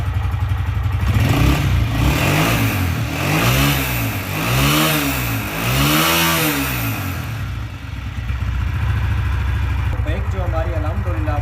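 A Honda CG 125 motorcycle engine revs repeatedly in rising and falling surges after tuning, loud and close, then settles back to a steady idle.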